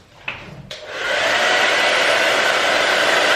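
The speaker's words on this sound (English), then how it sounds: "go ahead and grab my hair dryer," After a couple of knocks and clicks, a hair dryer switches on and blows with a steady, loud rushing whoosh, drying airbrushed paint on a shad jerkbait lure.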